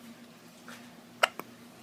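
A baby hiccups twice in quick succession, two short soft bursts close together against an otherwise quiet, low room hum, with no talking.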